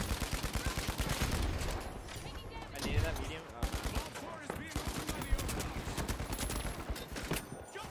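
Rapid bursts of gunfire in the FCAR video game as an enemy pink team opens up, dense overlapping shots running throughout with a voice talking over them.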